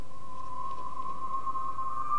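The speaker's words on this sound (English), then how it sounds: "that Bollywood whistle, which is a whistle from a Bollywood movie" A single steady whistle tone sampled from a Bollywood movie, heavy with reverb, is held unbroken throughout, sitting over a faint low rumble, with no voices.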